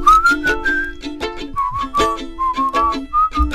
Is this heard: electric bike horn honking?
no